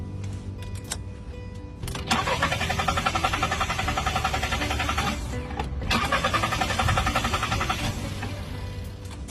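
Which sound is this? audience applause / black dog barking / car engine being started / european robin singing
car engine being started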